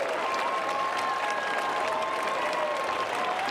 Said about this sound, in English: The whole Waters clan is standing on their feet with plenty of applause.